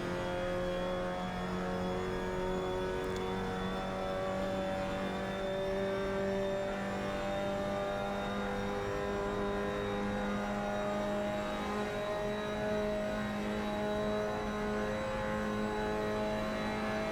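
Mazda MX-5 Cup car in a sim racing game running down on power, its engine holding a steady, fairly quiet tonal drone with little change in pitch across the whole stretch.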